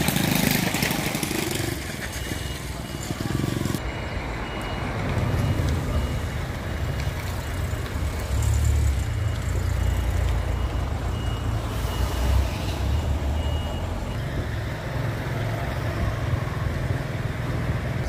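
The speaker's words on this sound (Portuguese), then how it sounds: "esses carros aí aqui vai para Delmira" Road traffic in the town centre of Paulo Afonso, Bahia, with cars and other vehicles passing on a road heading toward Delmiro Gouveia, Alagoas. It forms a steady, continuous rumble of engines that swells and fades as vehicles go by, with no talk.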